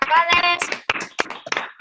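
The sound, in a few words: audience applause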